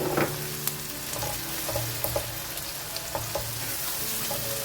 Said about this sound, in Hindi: इसमें हम लहसुन अदरक का पेस्ट डालेंगे, इसको चलाएंगे